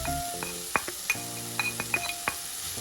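Peppers, onions and minced meat frying in a pan, a steady soft sizzle under light clinks and taps of a utensil stirring, close and quiet with no talking.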